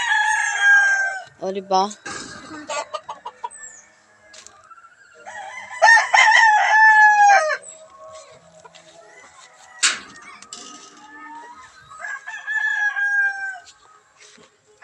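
Large flock of backyard chickens with several roosters crowing in turn, loud nearby crows mixed with clucking and pauses between, with brief speech from a person.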